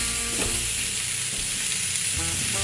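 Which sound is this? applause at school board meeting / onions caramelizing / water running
onions caramelizing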